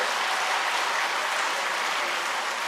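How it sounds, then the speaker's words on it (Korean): A church congregation applauds during a Sunday worship service, a dense, even wash of clapping filling the room without pause. "다시 한번 크게 박수 쳐주세요."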